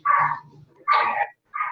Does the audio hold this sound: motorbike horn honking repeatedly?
no